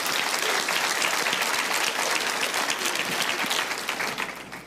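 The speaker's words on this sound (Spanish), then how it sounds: "aplauden al Señor si quieren" A church congregation breaks into sustained, dense applause for the Lord during a sermon on Ezekiel's prophecies, steady and enveloping before tapering slightly toward the end.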